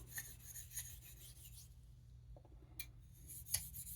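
Faint, quick rasping strokes of a knife edge sliding across a soft-to-black Arkansas whetstone, a handful of brief scrapes spaced over a few seconds in a quiet room.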